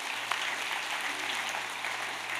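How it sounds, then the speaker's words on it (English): Church congregation applauding at a Mother's Day service, a steady wash of clapping from many hands, fairly soft and even, with a low hum underneath. "We can give them a round of applause."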